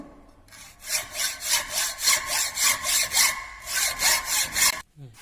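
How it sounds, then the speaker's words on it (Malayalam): Hand saw cutting through a metal workpiece during fitting practice for a V joint, with steady rhythmic back-and-forth strokes, about a dozen evenly spaced rasping passes, close and fairly loud, ending abruptly. "ഇങ്ങനെ നമ്മൾ കട്ട് ചെയ്തെടുക്കുന്നു."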